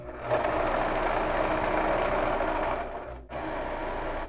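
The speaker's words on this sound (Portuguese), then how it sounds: "eu estou utilizando o Ultralock da Singer, tá? Que é esse overlock doméstico." A Singer Ultralock domestic overlock machine stitches a finishing seam on a basic blouse, running as a fast, steady mechanical whir for about three seconds, pausing briefly, then starting again, close and loud, with no talking.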